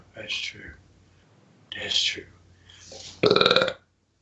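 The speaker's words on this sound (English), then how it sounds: "I just belched." A man lets out a loud, brief belch after stretches of low murmured talk, the burp standing out sharply near the end.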